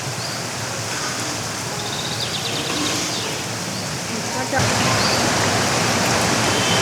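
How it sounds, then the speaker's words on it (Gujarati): Rain pouring outdoors in Bhuj, a dense broadband rush like falling water that swells louder partway through, with faint chirps in the background. "જો ફ્રેન્ડ્સ બહુ જ મસ્ત વરસાદ પડે છે."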